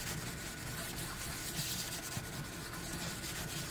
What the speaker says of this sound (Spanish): con esta esponja y el jaboncito voy fregando, tallando y queda limpiecito